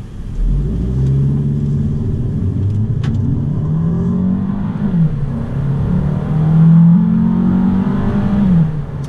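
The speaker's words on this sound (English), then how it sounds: "So we're getting ready to pull out in the traffic here right now." A Fiat 500L Trekking pulls out into traffic, its engine droning and rising steadily through smooth gear changes. The sound is loud and close from inside the cabin, and no speech is heard.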